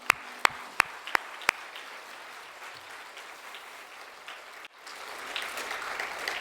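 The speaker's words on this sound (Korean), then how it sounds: "하나님께 신나게 박수 한번 쳐드리십시다요." A church congregation claps during a hymn in a Korean church service, starting with a few sharp separate claps, then a long swell of sustained applause that grows louder toward the end.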